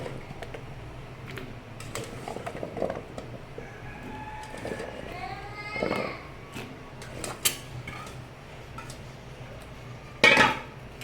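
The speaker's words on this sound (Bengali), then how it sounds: "এই যে কুমড়োগুলো দিয়ে দিচ্ছি" Sweet pumpkin pieces dropped into a cooking pot, with scattered clatters and clinks of utensils against metal, a burst of clattering near the end, and faint bird chirps in the background.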